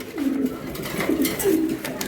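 A racing pigeon at a pigeon farm gives several soft, close coos in a rolling rhythm, set against a faint background bustle.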